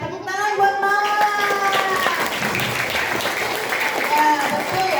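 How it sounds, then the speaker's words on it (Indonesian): Elementary schoolchildren at a seminar on bullying and career planning clap together in a sustained, lively round of applause, with voices talking and calling out over the clapping. "Oke, tepuk tangan buat Mala."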